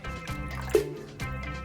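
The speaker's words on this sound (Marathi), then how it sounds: "त्यात मी पाणी टाकते आहे" Water poured into a cup of yogurt for kadhi gives a brief, close splashing trickle with a small drip partway through, set against steady background music.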